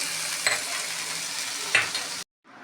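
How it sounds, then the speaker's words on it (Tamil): Boiled beans, carrot, cauliflower and peas lightly frying in a pan, a steady close sizzle with two brief spatula scrapes, then a sudden short silence before the sizzle resumes. "அதே பேன்லேயே வேக வச்ச காயையும் லைட்டாக ஃப்ரை பண்ணிக்கணும்"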